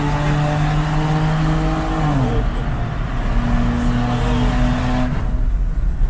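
A Ferrari's exhaust note rumbles loud and close, holding a steady engine tone before its pitch drops and rises again as the revs shift, with no talking over it.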